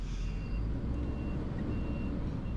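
A fully loaded truck labours up a mountain road, its engine a low continuous rumble with faint high whining tones above it, steady and moderately distant, with no talk.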